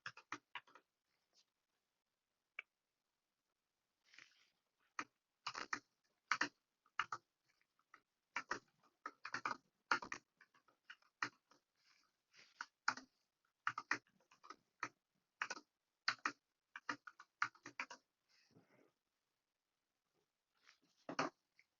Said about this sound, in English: we're going to type in our answer